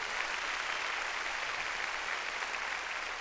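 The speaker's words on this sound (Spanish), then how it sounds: "Dale palmas al Señor de la gloria." A church congregation claps together during a Sunday worship service, a dense, continuous wash of many hands at steady volume with no pauses, heard from within the room.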